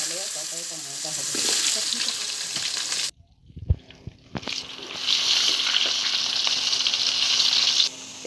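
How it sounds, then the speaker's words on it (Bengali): Eggplant pieces fry in hot oil in a home kitchen, giving a steady, loud hiss of sizzling that briefly drops away, then returns with renewed crackle and a few stirring clatters. "বেগুন ভাজবো, বেগুনগুলো ভাজবো এখন।"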